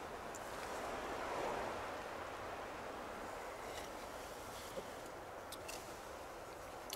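Steady wind blows at a cold seaside, a continuous broadband rush with faint surf-like texture and no talking.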